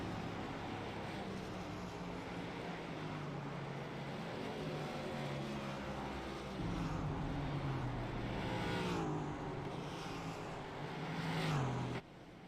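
Several race cars in the iRacing video game roll off pit road at the Texas track, with a steady layered engine drone, pitch sweeps as cars accelerate and pass, and a swell near the end before it drops off.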